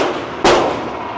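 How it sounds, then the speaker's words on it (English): A single gunshot fired from a gun, a sharp, loud, close crack that decays quickly into a ringing tail over steady background noise. "This was my first shot."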